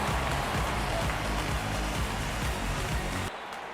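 A cricket stadium crowd at a Pakistan vs New Zealand T20 World Cup match applauds a six, with dense, steady clapping and crowd roar filling the space before it drops off abruptly near the end.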